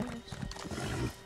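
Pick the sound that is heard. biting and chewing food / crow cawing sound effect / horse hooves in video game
horse hooves in video game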